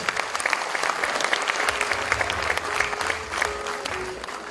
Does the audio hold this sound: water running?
no